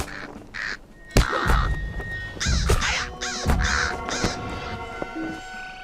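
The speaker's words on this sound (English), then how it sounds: "It sounds like crows." A flock of Crebain crows in the Lord of the Rings Online video game caws repeatedly, harsh overlapping calls in an irregular rhythm, loud and close, with sharp thuds and effects mixed in.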